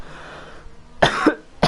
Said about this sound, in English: Pardon my coughing.